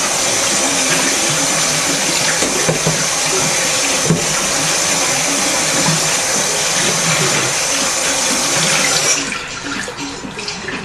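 Steady running water pours from a tap over sprouted mixed beans in a colander, a constant loud broadband rush that drops off and thins near the end as the flow eases.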